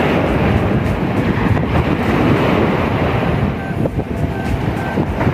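Strong surf rolling onto a beach, a loud continuous roar of crashing waves buffeted by heavy wind noise on the microphone, with no clear talk.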